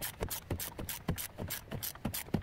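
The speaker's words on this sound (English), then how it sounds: "we can grab our 14 millimeter wrench" A 14 mm wrench and socket ratcheting while pressing a pulley onto a Chevy Silverado power steering pump, a quick run of crisp clicking strokes at a steady rhythm, close up and fairly quiet, with no talk.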